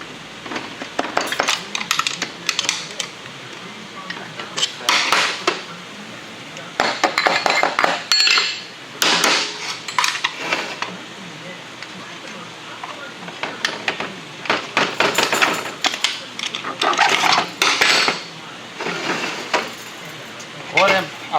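Metal transmission parts clinking and clattering in bursts as a center support is pulled from a 2004R automatic transmission during teardown, close and sharp with pauses between handling.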